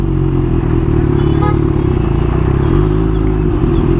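A Kawasaki Ninja H2 idling and lightly revving in heavy city traffic, a steady loud low engine rumble with a slight swell in pitch, close by, no speech.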